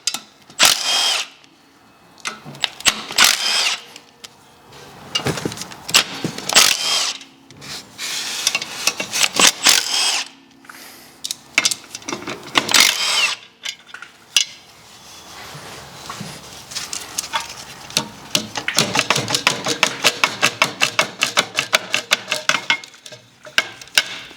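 Power-tool bursts remove the 10 mm clutch pressure plate bolts on a Mazda MX5 MK3. They are loud, repeated whirring runs of a few seconds each, with short gaps and faint clicks between them.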